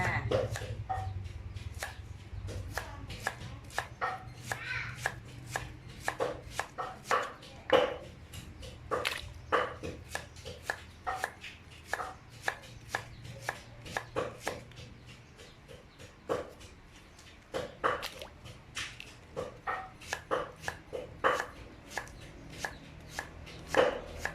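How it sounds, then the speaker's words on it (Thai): A knife chops through banana stem on a board in steady, crisp strikes, sometimes quick runs and sometimes paced, for a long stretch with no talk. "แล้วก็สิมาหั่นหยวกกล้วยแช่แช่น้ำเกลือจ้า"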